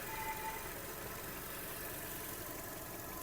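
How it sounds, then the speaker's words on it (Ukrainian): A 2008 Volkswagen Golf 5 1.6 MPI engine idles quietly and evenly, a steady low rumble with no other sounds. "мотор працює тихенько не димить, не троїть"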